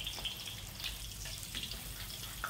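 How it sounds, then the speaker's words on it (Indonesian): Steady sizzling and crackling of tofu frying in hot oil until crisp-skinned, with a few faint pops, heard up close and alone. "Goreng tahunya sampai berkulit, dibalik-balik seperti ini."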